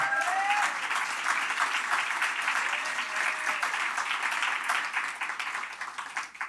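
Sustained audience applause fills an awards gala hall, a dense, steady wash of many hands clapping that holds strong throughout and begins to thin and fade slightly toward the end.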